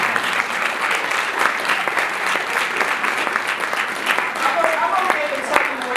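Audience applause fills a hall at a campus discussion event, dense steady clapping throughout with a few sharper claps standing out, fairly close and loud.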